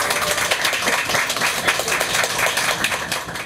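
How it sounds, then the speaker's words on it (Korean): Audience applause welcoming a guest author onto the stage at a book concert, a dense, continuous patter of many hands clapping at close range, loud and steady with no talking. "여러분 박수로 맞이해 주시기 바랍니다."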